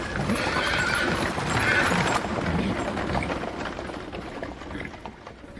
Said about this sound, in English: Krishna tugged the reins of his horses and the chariot raced towards the Pandava